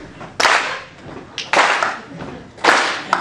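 Three loud, close hand claps land at roughly one-second intervals during a sing-along happy song, each a sharp burst with a short ringing tail.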